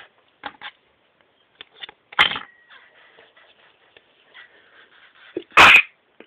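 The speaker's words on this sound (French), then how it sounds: "Oh, pardon, j'ai éternué." A person sneezes loudly twice, a few seconds apart, while shaping Fimo polymer clay at a work table, with faint clicks and taps of handling in between and no talk.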